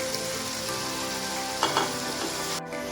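Whole green chillies dropped into a hot pan of matar keema hiss and sizzle steadily, with a brief louder crackle burst partway through and a sudden cut near the end; no voices.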